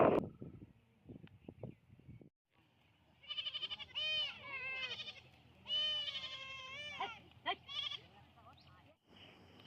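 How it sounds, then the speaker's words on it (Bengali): Village goats bleat repeatedly in short wavering calls, several animals overlapping at close range after a few seconds of quieter rustling and thumps, with pauses between bursts. "চাষি ভাই আমাদের গ্রামের ছাগলগুলো আপনাদের দেখালাম"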